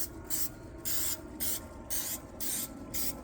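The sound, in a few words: cooking spray on muffin tin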